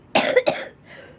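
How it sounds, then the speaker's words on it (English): A person with cystic fibrosis gives a few sharp, close coughs in quick succession during a workout, followed by a brief breathy trailing sound. "But I was coughing through this whole workout."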